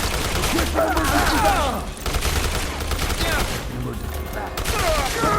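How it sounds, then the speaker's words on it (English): Rapid gunfire in Dead Rising Deluxe Remaster, a dense stream of machine-gun-like shots with shouting voices over the top, loud and sustained across the whole stretch. "Returning fire"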